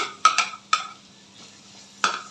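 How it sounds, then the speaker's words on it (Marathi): Roasted lima beans tipped into an oiled pan of vegetable, a few sharp clinks and scrapes of a spoon against the pan, with quiet gaps between them. "तर आता ह्याच्यामध्ये आपण हा भाजून घेतलेला पावटा ॲड करायचा मंडळी"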